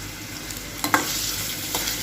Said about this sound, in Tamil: இப்போ எண்ணெய் லைட்டாக சூடு வந்தோடனே நம்ம வந்து இந்த வெங்காயத்தை போட்டுருவோம்.